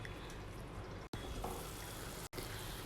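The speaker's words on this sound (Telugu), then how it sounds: "టమాటా పేస్ట్లో ఆయిల్ సపరేట్ అయ్యేంత వరకు బాగా ఫ్రై చేసుకోవాలండి సిమ్లో పెట్టుకొని" Tomato paste frying in oil in a pan on low heat for a ridge gourd masala curry, giving a steady, close sizzling hiss that runs throughout with two brief cuts.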